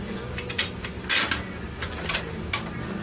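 A ratchet wrench snugs down bolts on an Arco twin engine plate, a few short bursts of rapid clicking, close and fairly quiet, with no talking.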